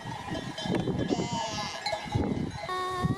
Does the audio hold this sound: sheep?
yes